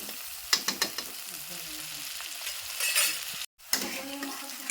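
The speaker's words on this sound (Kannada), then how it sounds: "ಈ ಉಳ್ಳಾಗಡ್ಡಿ ಒಂದು ಸ್ವಲ್ಪ ಫ್ರೈ ಮಾಡ್ಕೊಬೇಕು" Onions fry in oil in a pan for a green chili stir-fry, a soft continuous sizzle running throughout with scraping clicks of a spatula stirring, one brief silent gap and quiet kitchen ambience.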